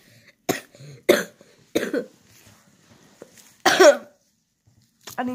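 Someone warming up their voice for a drawn-out vocal challenge coughs four or five times in separate loud, harsh bursts spaced across a few seconds, with quiet gaps between them.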